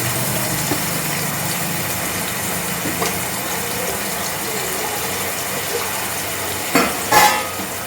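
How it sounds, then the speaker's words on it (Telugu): Onions frying in hot oil give a steady dense sizzle and crackle close up, with a couple of louder clatters of a utensil near the end. "అయితే వేడెక్కి ఉల్లిపాయలు వేసుకుందాం"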